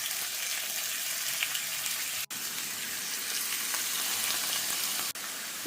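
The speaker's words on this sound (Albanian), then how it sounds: "Tani tek tigani i nxehur me pak vaj i tërgojmë filetat e pulës." Chicken fillets sizzle steadily in a hot grill pan with a little oil, a continuous close frying hiss with two brief breaks.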